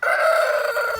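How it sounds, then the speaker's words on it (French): A rooster crows loudly and close in a poultry yard kept with hens, one sustained, strained call filling the moment without any talk. "un coq et 3 poules"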